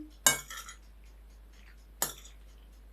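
A metal utensil stirring butter into cooked pasta in a pot gives two sharp clinks with short scraping rattles, close and clear against a quiet background.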